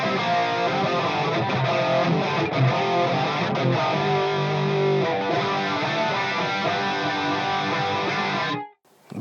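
An electric guitar plays through a Fractal preset set to rhythm chorus, giving a shimmering, driven 80s classic rock tone as chords ring out steadily for several seconds before cutting off abruptly at the end, with no talking.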